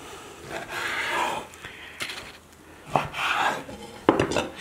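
Repeated scraping knife strokes grind through a frozen meat roll, in short bursts separated by small knocks, close by with no talk.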